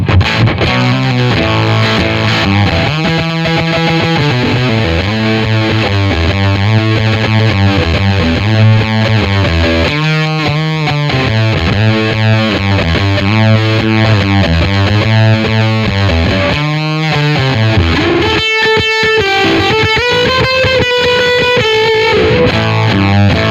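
An electric guitar driven through an Old Blood Noise Endeavors Haunt Fuzz pedal with the gate engaged plays a loud, thick riff of choppy, abruptly cut notes, then sustained chords near the end.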